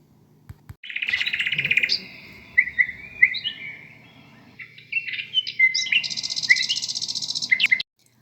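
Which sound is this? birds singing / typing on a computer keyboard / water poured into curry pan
birds singing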